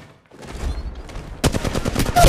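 Rapid automatic gunfire in the mobile shooter Apex Legends Mobile, loud bursts of evenly spaced shots hammering close by after a quieter stretch of game ambience, with no one speaking.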